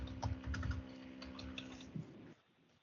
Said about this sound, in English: I'm just typing all this in as we speak